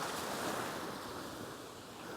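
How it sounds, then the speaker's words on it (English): Surf washing onto a beach shoreline at dusk, a steady broadband wash with gentle swells and some wind rumble, moderately faint and continuous with no voices. "I don't know what just caused those waves."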